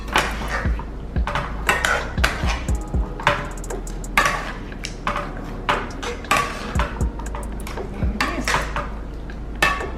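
Chicken wings are tossed in a bowl with spicy mango sauce, giving repeated clattering and clinking of utensils against the dish in a steady, busy rhythm that sounds close and fairly loud.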